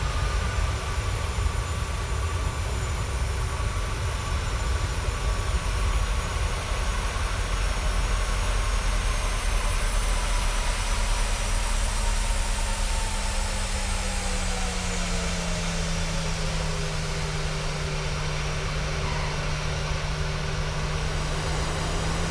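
Boeing 737 taxiing to the ramp at Tegucigalpa Toncontin, a steady loud jet engine roar with a whining tone that slowly drops in pitch as the engines spool down.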